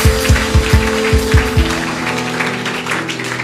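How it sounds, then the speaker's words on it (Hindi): A church congregation at a prophetic meeting in Itanagar, Arunachal Pradesh, claps loudly for the Lord in a quick rhythmic burst of about eight claps, then fades into a murmuring room with a sustained musical tone underneath. "सब लोग जोर से ताली प्रभु के लिए मारिएगा।"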